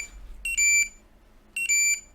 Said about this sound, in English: I'm guessing that was the smoke alarm.